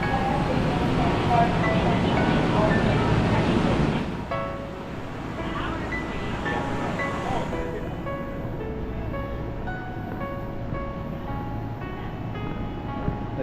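A train rumbles and hisses at Jamaica station in New York, a broad steady roar that drops to a quieter hum partway through, with faint voices in the background.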